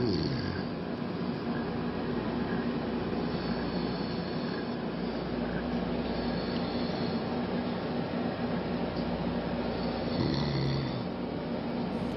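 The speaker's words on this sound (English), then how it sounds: "She's snoring." A woman snores loudly and continuously, a rough, droning rasp with steady rhythm that fills the whole stretch close to the recorder, with no talking over it.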